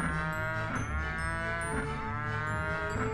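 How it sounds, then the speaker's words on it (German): Cattle in the video game Rock of Ages 2 moo repeatedly in a steady run of drawn-out calls over continuous game sound, with no talking. "dann ballern wir hier noch Kühe hin"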